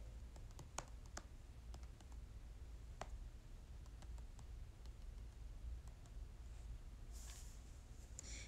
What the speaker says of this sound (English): So I'm gonna Type it in.